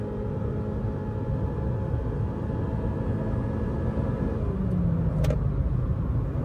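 A car engine with no exhaust fitted, heard in a mechanic's workshop, rumbles in a steady, loud drone throughout, with a brief sharper burst near the end.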